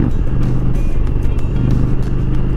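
Dodge Challenger V8 in sport mode with an aftermarket exhaust and no catalytic converter, rumbling close up with a deep, steady idle-to-throttle burble and slight fluctuations, no talking.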